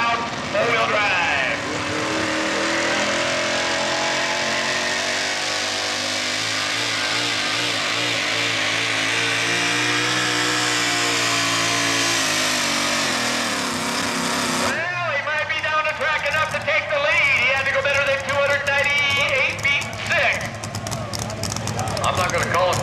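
A 6,200-pound four-wheel-drive pulling truck at a truck and tractor pull roars with a loud, sustained engine drone that rises and shifts pitch for about fifteen seconds before cutting off, with an announcer talking over it and crowd noise afterward.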